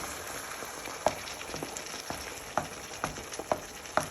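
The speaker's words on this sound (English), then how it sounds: "Now you want to add in your tomatoes. Just give that a little bit of a stir." Canned tomatoes are stirred in a frying pan, a soft steady sizzle broken by scattered clinks and scrapes of a utensil against the pan.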